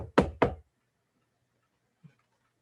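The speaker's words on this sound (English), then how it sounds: "there was a loud knock at the door." Two loud, sharp knocks on a door land in quick succession, close and alone, then near silence follows with one faint soft bump.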